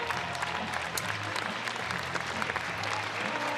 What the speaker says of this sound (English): Hutchinson's going to get, I'm sure, quite an ovation from this record crowd when he exits the mound